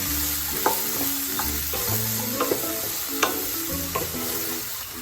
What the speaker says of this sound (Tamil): சௌச்சவும் தக்காளி நல்லா வதங்கணும்.